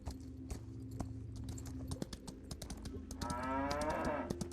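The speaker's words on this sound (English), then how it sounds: "those cows are extremely loud" Cows in the farming video game Equinox: Homecoming let out a long, loud moo in the second half, over a steady rhythm of keyboard taps and clicks.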